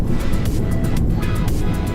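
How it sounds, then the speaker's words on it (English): Fiat 500e electric city car driving, a steady broadband road and wind rush with no engine note, heard continuously and fairly loud with faint periodic swells. "Yes, this is the Fiat 500e. It's an electric car. Listen to that performance."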